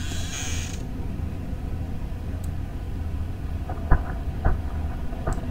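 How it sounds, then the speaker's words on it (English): In Five Nights at Freddy's, a metallic security door mechanism creaks and ends in a few sharp clunks over a low, steady background hum. "I'm gonna close the door."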